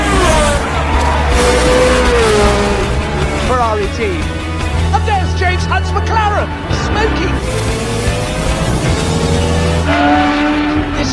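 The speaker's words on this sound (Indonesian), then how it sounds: "And there's James Hunt's McLaren." Formula One race cars, Ferrari and McLaren, roar past at Monza in a 1970s-era race, engines rising and falling in pitch as they pass, loud and continuous under excited commentary.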